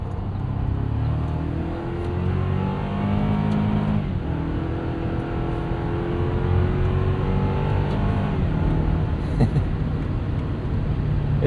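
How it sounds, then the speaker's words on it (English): Turbocharged engine in a 2024 Toyota Tacoma SR5 pickup pulling steadily under acceleration, a continuous low drone with faint rising whine layered on top, heard from inside the cab without talk. "You can hear a little bit of that turbo spool."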